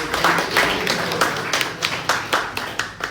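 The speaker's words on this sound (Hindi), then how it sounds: "तालियां फिर से बजाओ यार" An audience at a business workshop claps in a hall, a loose burst of overlapping hand claps with a few sharper individual strikes toward the end.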